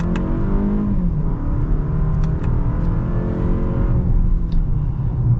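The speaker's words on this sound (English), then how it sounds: "we are starting in second gear, but let's get our acceleration here" A 2021 Lexus ES 250 AWD pulls away hard from second gear, its engine drone rising steadily in pitch over several seconds, loud and close inside the cabin with no talk.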